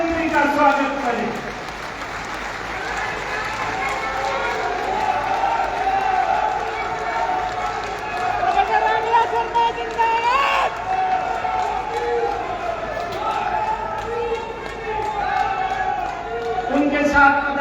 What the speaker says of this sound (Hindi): खड़े होकर के ताली बजा करके अपने महबूब मुख्यमंत्री का स्वागत करें